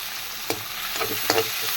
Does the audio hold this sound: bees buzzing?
no